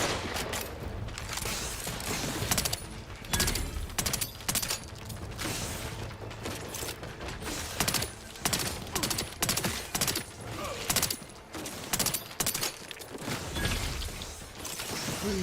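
Gunfire in Outer Worlds 2: repeated bursts of shots in rapid, uneven volleys across a long firefight, with mechanical clanks and creaks between them and no talk over it.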